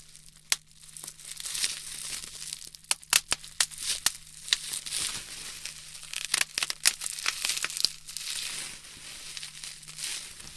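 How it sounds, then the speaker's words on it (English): Bubble wrap crackles close up in a rapid, uneven run of sharp pops over a steady bed of plastic rustling and crinkling, with no voices. "Try popping them slowly, yeah, because I'm rustling the plastic too much."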